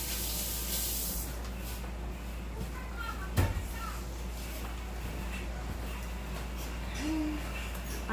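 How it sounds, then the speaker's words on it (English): Tap water runs steadily into a kitchen sink as hands are rinsed while brownie batter is being prepared, a continuous hiss that starts strong and then settles into a softer stream, with a brief knock partway through. "Give my hands a quick rinse."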